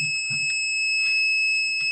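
A PeakTech P 1073 smart multimeter gives a steady, continuous high-pitched beep while testing probe resistance, loud and unbroken for the whole stretch, with faint handling thumps underneath.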